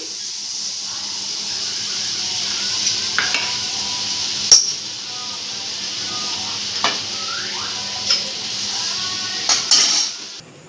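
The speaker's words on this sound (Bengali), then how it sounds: "এবারে আমি বন্ধুরা এই বাটারের মধ্যে চিকেনটাকে ফ্রাই করে নেব" Chicken pieces fry in melted butter in a wok, giving a steady close sizzling hiss throughout, with occasional metallic clinks and scrapes from stirring against the pan.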